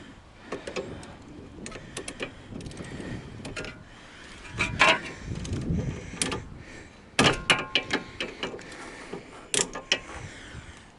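A ratchet wrench with broken internal teeth, used while removing the stock suspension from a 2010 Mini Cooper S, gives irregular close clicks and clacks, some slipping, amid workshop clatter.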